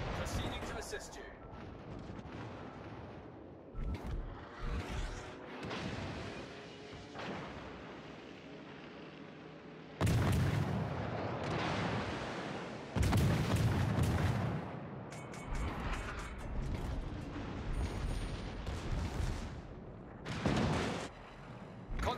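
Warship artillery fire in World of Warships: Legends, a German Brandenburg battleship in naval combat: heavy booming salvos that burst out loudly at intervals over a steady rumbling battle bed, with game radio voices speaking throughout.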